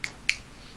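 Two quick, crisp finger snaps a quarter second apart ring out fairly quietly over a hushed room during a tabletop role-playing session, with silence following.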